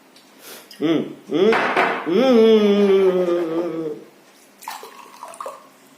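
Water is poured into a container in two or three gurgling, splashing spells, each rising in pitch as it fills, followed by a few light clinks and clatters of handling.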